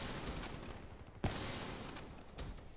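Gunfire in Call of Duty Black Ops III crackles as a dense, continuous fusillade, with one sharper, louder shot in the middle of the rapid firing and no talking.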